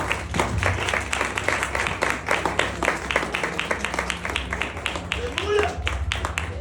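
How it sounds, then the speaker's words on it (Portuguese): Church congregation clapping together during a worship service, loud rhythmic claps in a steady beat with voices and music underneath. "As palmas são para o Senhor."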